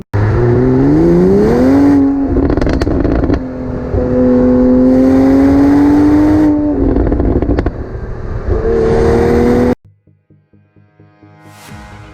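A 2020 Toyota Supra engine revs hard through rising gear pulls, loud and close, with crackling exhaust pops between shifts before dropping to a lumpy idle burble.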